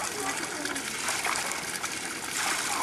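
Water splashes and is poured in a pool, a close, continuous patter and trickle of water throughout.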